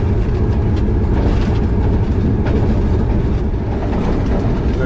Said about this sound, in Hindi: तो ये ट्रेन अभी अख्तर करनाना रेलवे स्टेशन से पास थ्रू हो रही है